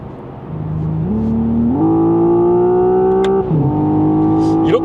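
A smooth electric motor whine climbs in pitch in steps as a 2026 Hyundai IONIQ 6 N AWD speeds up past 120 km/h, with road and wind noise building underneath.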